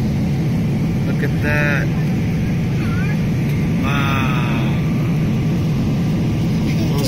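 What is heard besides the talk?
airplane cabin noise while descending to land at Manila airport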